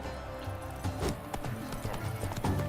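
Horse hooves clip-clop in Witcher 3 as the mount trots along and slows to a stop, steady close-up thuds over soft game ambience with a brief whinny.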